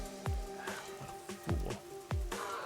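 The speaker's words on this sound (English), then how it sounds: "It's going to rain all day today, tomorrow, and every day after that." Rain in the video game Master Detective Archives: Rain Code patters over a steady musical drone, with a few heavier drip-like plops at regular intervals standing out close and clear.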